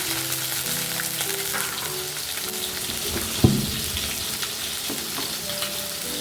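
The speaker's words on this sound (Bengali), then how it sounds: "তেল দিয়ে দিয়েছি, এবার পেঁয়াজ আর লঙ্কা দিয়ে দিচ্ছি" Onion and chilli frying in hot oil in a kadai, a steady close sizzle running throughout with a single sharp clatter partway through.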